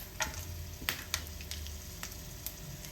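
Peanuts frying in hot oil with popped mustard seeds for aval upma, a close crackling sizzle broken by sharp pops and a stirring scrape, with no talk.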